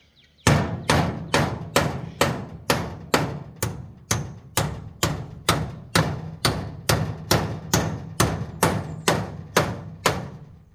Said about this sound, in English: he's putting a piece of tin on the top for the roof and nailing it down